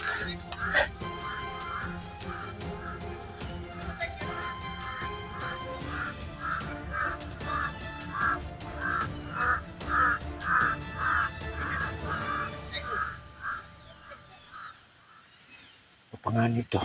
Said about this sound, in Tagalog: Lumakas yung kinig ng mga uwak.